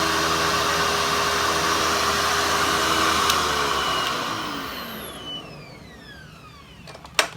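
A Hoover Hushtone 15 vacuum cleaner runs on carpet with a loud, steady whirring hum, then powers down and its motor pitch slides away before a faint clunk at the end.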